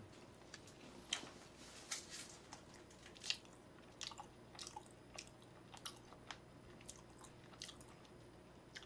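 Faint, close chewing and slurping of tangjjamyeon, a split bowl of jjamppong spicy seafood noodle soup with beef brisket and jajangmyeon black-bean noodles, eaten in a mukbang, with irregular small bites and wet clicks over a low background hum.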